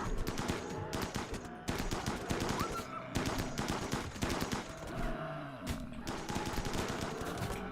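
Video-game gunfire in Rimworld as a colonist shoots at a Muffalo: dense, rapid bursts of automatic shots in clustered volleys with brief pauses between, fairly loud and up close.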